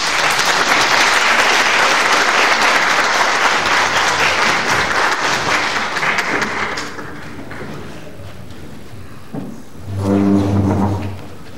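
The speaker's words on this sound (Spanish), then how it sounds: "Un fuerte aplauso, por favor." Audience applause after a master's lecture introduction at a conference by the IPN dean, loud and sustained dense clapping for about seven seconds that fades out, followed by someone speaking.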